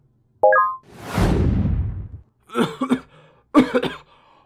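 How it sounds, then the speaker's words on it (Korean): One sharp, close cough bursts out after a short tone, followed by a brief whooshing rush, and then two short spoken exclamations. "지금 누가 기침 소리를 내었어?"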